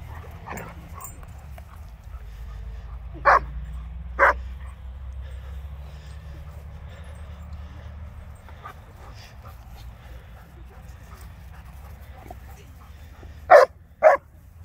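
A big German Shepherd and a small dog play outdoors, with a few sharp separate barks over a low steady rumble of wind or ground noise and some faint panting between them.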